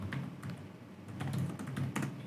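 Fast typing on a computer keyboard, a steady patter of close key clicks with brief bursts and pauses, heard alone.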